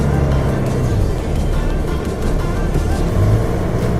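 A car drifts and slides on a slick, snowy road, its engine roaring loud and close in a steady, continuous rumble that barely dips for the whole stretch.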